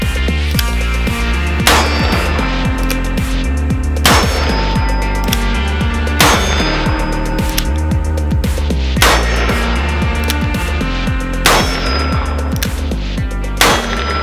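A Ruger Super Redhawk revolver fires .44 Magnum rounds at an outdoor range, a loud report repeating about every two seconds over a dense, continuous backdrop of clattering sound.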